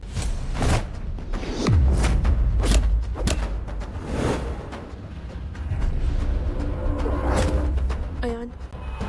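Heavy thuds and thumps from people beating someone in a fight, a dense run of loud blows and scuffling with dramatic music and shouting voices around them.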